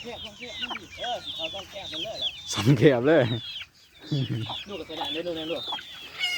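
Chickens cluck steadily near a person who talks over them, with a loud bird call standing out midway through.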